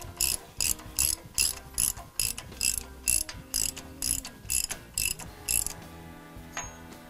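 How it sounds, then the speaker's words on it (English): A 1 1/16 socket on a ratchet tightens a castle nut on heavy duty steering for a Jeep Wrangler JKU, giving about a dozen loud, close, evenly spaced clicking strokes before the ratcheting stops. "So I happen to have a 1 1/16 socket. We'll tighten that down."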